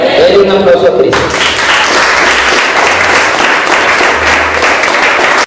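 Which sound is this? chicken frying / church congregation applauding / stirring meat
church congregation applauding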